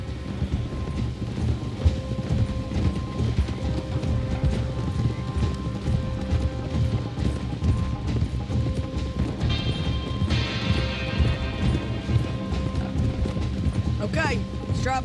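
Horse hooves clip-clop steadily in Red Dead Redemption 2, set under a constant bed of game music and ambience, with a horse whinnying near the end and a voice speaking over it.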